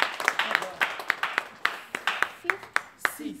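Clapping at a church all-night prophetic prayer service, a steady series of sharp hand claps in an uneven rhythm, fairly close, with voices around them.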